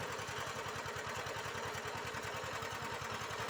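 A homemade generator built from an asynchronous electric motor, turning at about 900 rpm, runs with a steady, loud mechanical drone and a fast, even pulsing throughout.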